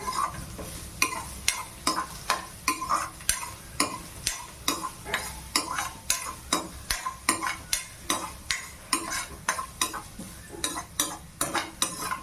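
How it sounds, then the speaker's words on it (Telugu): Onions frying in a pan while being stirred briskly, with a constant sizzle broken by rapid, regular spatula scrapes and clinks against the pan. "బాగా అయితే వేపండి ఆనియన్స్ని."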